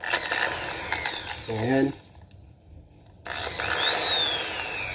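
An INGCO 680W impact drill runs loudly close by, then drops out briefly and comes back up as its speed knob is turned. Someone speaks over it.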